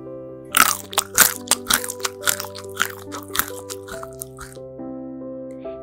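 A squirrel crunches acorns in a children's bedtime story sound effect, a close series of sharp, crackly bites over a soft sustained musical bed, fading out toward the end.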